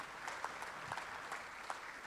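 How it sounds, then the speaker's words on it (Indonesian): A church congregation clapping together during a worship service, a soft, even patter of many hands heard from a distance, brief and quiet. "Kita berikan tepuk tangan buat Tuhan."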